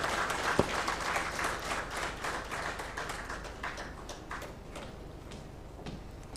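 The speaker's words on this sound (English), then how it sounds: "Ladies and gentlemen, let's give them a big round of applause." An audience at an investors' awareness meeting in a hotel hall claps in a fairly quiet, scattered round that thins out and fades toward the end.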